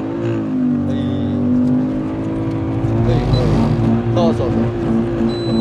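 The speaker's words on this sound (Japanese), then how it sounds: "ここでアクセルをこう煽る煽る。" A drift car's engine during a drift lesson, with the throttle blipped: a loud, close, steady engine drone that rises in pitch in short surges midway, while people talk over it.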